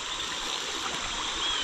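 Creek water streams steadily and close by in a smallmouth bass fishing creek, a continuous broadband rush and trickle with no talk over it.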